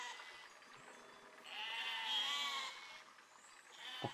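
A sheep in the video game Besiege lets out one drawn-out wavering bleat in the middle, fairly close and clear over quiet game ambience.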